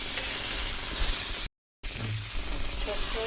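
Water and lentil dumplings go into a hot pan of mustard, chilli and poppy seed paste, giving a broad steady sizzle that cuts out briefly and then resumes.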